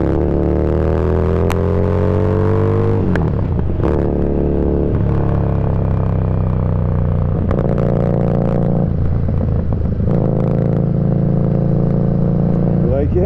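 A Harley-Davidson Street Rod motorcycle is ridden through twisty roads in Downtown Dubai, its loud, close engine droning and climbing in pitch, with several abrupt dips and resets as the rider shifts gears.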